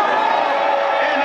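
Large crowd at a political gathering in Kasaï-central cheering and whooping for the governor, a dense, loud, continuous roar of many voices with scattered shouts throughout.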